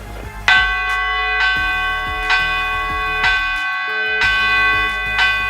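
A church bell struck repeatedly at a bell-ringing gathering in Bétera, Valencia, each bright metallic strike blooming into a long ringing hum, about six loud strokes in a slow, slightly uneven rhythm with no voices.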